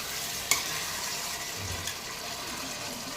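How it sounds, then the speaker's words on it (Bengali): Chana masala (chickpea curry) cooks in a pan, a soft, faint sizzle and stir with one light utensil clink near the start, no talking. "ভালো মতো করে কষিয়ে নিচ্ছি"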